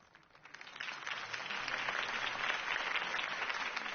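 Video game crowd applause rises quickly and carries on as a dense, steady wash of clapping with no talking.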